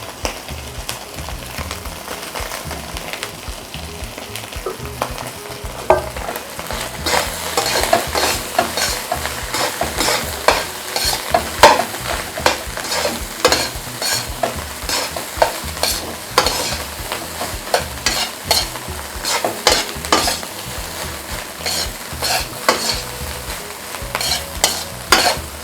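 Spicy fried rice with mixed ingredients being stir-fried in a pan, a steady sizzle broken by repeated sharp scrapes and clinks of the spatula against the pan, fairly close and continuous without talk.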